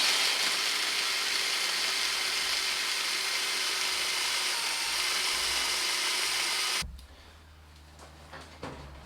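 A loud, steady high-pitched grinding whine of a high-speed steel end mill milling out a stud on a Suzuki GS1150 runs continuously, then abruptly stops, leaving a low hum and faint clicks.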